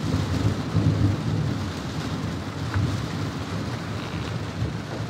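Heavy rain pours and wind roars in a stormy outdoor scene by the water, with deep rolling thunder running steadily underneath throughout, loud and continuous with no voices.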